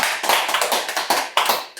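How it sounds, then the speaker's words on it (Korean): A small audience closing a Korean literature seminar claps together, loud, close, fairly rhythmic bursts of hand claps filling the short moment with no voices. "우리 모두에게 박수 한번 치고 마무리할까요?"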